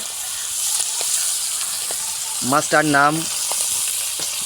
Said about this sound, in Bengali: ভাজা হচ্ছে